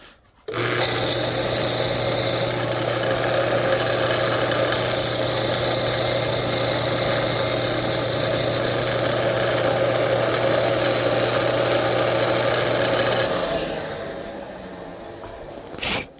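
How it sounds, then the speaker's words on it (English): Power grinder running steadily on a part from a 51-inch TFL Ariane twin brushless RC boat, a loud continuous grinding whine with a rasping edge that holds for about thirteen seconds, then cuts off and spins down. "Actually, let's throw it on the grinder real quick."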